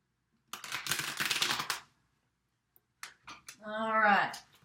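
A deck of tarot cards is shuffled in a quick, dense rustling burst lasting just over a second. After a short pause, a person speaks.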